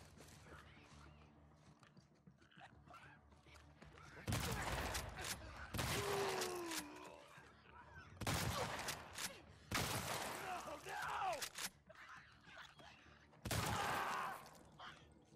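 Heavy shotgun and weapon fire in The Last of Us Part II comes in several loud bursts separated by quieter stretches with rustling and movement.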